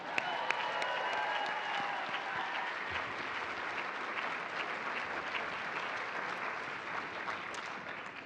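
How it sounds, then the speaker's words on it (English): Sustained applause from a large audience greets a graduating class of astronauts at a formal ceremony, dense and even clapping holding steady for several seconds with a brief whistle early on. "Great round of applause"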